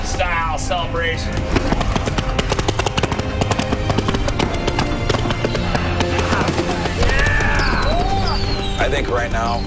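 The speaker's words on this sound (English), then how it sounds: "That's a lot of fireworks." Fireworks bursting repeatedly at a boat celebration, a dense run of loud cracks and pops going off close by without pause, with voices shouting and talking over them.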